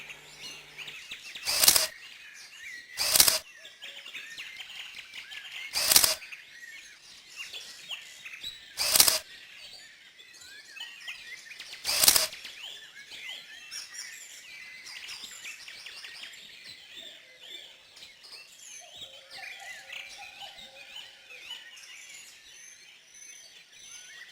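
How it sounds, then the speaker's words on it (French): Birds chirp and twitter in a garden at moderate distance, punctuated by five sharp, loud clicks spaced a few seconds apart in the first half. "C'est dans son jardin que viennent se restaurer beaucoup d'oiseaux, des plus gros aux plus petits."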